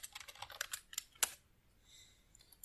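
Quick, close clicks of computer keyboard keys as a shortcut is pressed, a short cluster of taps ending in one sharper keystroke, followed by near quiet.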